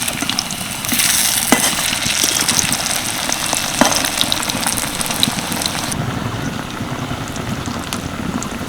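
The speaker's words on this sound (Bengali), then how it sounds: "দুটো করে একসাথে ভেজে নেব এগুলো ভাজতে কিন্তু খুব একটা বেশি সময় লাগে না" Stuffed flatbreads for a tiffin fry two at a time in hot oil, producing a loud, continuous bubbling sizzle close up, with a couple of brief clacks and the hiss easing slightly near the end.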